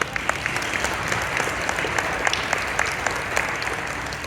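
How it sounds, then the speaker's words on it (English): An audience at a panel event gives a round of applause, steady close clapping with sharp individual claps throughout, alone without talk. "How about giving them a round of applause?"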